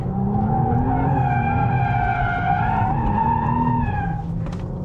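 A 2026 Audi RS5 squeals its tires in sustained hard cornering on a track, a loud continuous screech with shifting pitch over the engine, ending with a brief scuff at the finish, with no talk.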